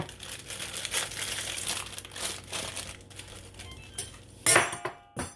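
Close crinkling and scraping of packaging being forced open, ending in a few sharp snaps and rattles, with no voices.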